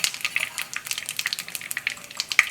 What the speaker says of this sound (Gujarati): તેલમાં આપણે 1 ચમચી જીરું નાખી દઈશું, 1 સૂકા મરચાંના ટુકડા નાખી દઈશું, તમાલપત્ર અને 2 તજના ટુકડા નાખી દઈશું